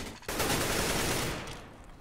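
Sustained burst of gunfire in the video game CS:GO, loud and dense from start to finish, with the volume tapering off slightly toward the end.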